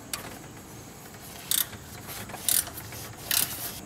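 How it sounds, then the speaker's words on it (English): A ratchet working a 12 mm tensioner bolt on a 2.0L Kia Sportage during a timing belt job, three short clicking bursts at even intervals over a quiet background hum. "We're going to take and loosen up the slack bolt first before we loosen up the back bolt."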